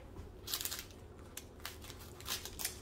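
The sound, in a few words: cutting a diamond painting strip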